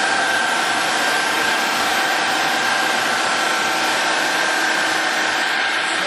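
An Axelson 18x102 engine lathe runs at 1300 RPM, giving a loud, steady broadband whir with a constant mid-pitched tone held unchanged throughout, with no talking.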